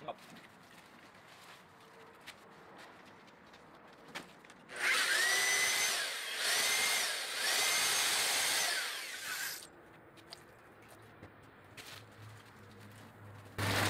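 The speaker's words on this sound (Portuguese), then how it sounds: "E agora o nosso parceiro ali, ó, Guilherme, vai mandar o pó dentro e vai chegar o aço na batedeira ali." A drill-driven mixer paddle churns waterproofing powder into liquid in a bucket during bathroom waterproofing work in an apartment. It roars loudly and close for about five seconds, and its pitch surges and dips. Quieter stretches come before and after it, with faint voices in the background.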